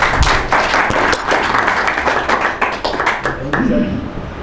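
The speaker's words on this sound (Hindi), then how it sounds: "सबके लिए तालियां तो बजा दीजिए।" A live audience at a lecture claps steadily through the whole stretch, dense overlapping applause that stays loud and close before thinning slightly at the end.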